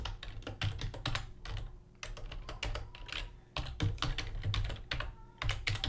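Rapid, uneven bursts of keystrokes on a computer keyboard while code is typed, close and crisp with brief pauses between runs of clicks and no talking.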